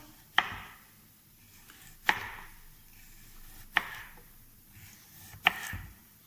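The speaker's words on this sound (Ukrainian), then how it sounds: "Ми використовуємо моркву, ми нарізуємо навскось." A knife cutting carrots diagonally on a board, four crisp separate chops spaced about 1.7 seconds apart, close and clear in a quiet kitchen.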